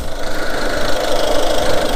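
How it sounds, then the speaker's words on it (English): A Mazda 3 with a 1.6 engine runs steadily at idle while hooked to a hydrogen carbon-cleaning machine, a close, loud, even hum with a slight knocking texture and no talk. "Engine carbon cleaner machine running."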